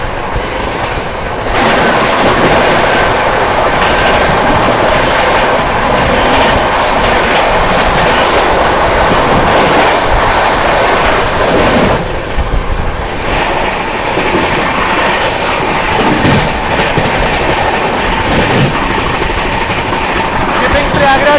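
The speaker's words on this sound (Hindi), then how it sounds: "New Delhi Dibrugarh Rajdhani express." The New Delhi–Dibrugarh Rajdhani Express passes close by and loud. A continuous roar of rushing carriages and clattering wheels holds for the whole stretch, with a brief dip partway through as the coaches rumble on.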